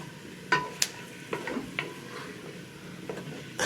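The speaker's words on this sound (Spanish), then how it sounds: "Siempre revolviendo un poquito hasta que se ponga bien dorada" Food fries in a pot for a tomato-free guiso carrero while it is stirred now and then, giving a soft continuous sizzle broken by a few light scrapes and knocks of the spoon, with no talking.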